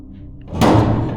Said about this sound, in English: they all scrambled inside, slamming it shut behind them